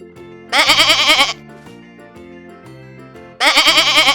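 Two loud, wavering goat bleats stand out clearly, one near the start and one at the end, with a quiet stretch of low background tones between them.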